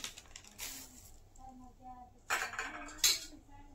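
Chivda is tossed with chivda masala and red chilli powder in a pan, producing soft rustling and a few bright metallic clinks of a spoon against the pan, faint and irregular.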